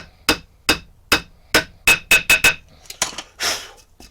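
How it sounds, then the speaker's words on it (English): A hammer drives nails into a homemade Scar Club replica weapon with sharp, close, metallic strikes, first spaced evenly, then coming in a quick cluster, followed by a few lighter taps and a scraping rattle. "I shall carry on now, nailing those in"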